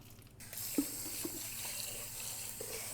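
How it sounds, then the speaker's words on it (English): Water pours and trickles steadily as it is drained off washed rice, with a few faint clinks and splashes, fairly quiet and close. "And drain the water without losing grain."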